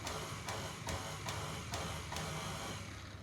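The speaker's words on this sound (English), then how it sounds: "just put on the mixer nice and slow" An electric stand mixer runs at low speed mixing Viennese whirl dough, giving a steady whirring drone broken by brief regular clicks as it is repeatedly switched on and off.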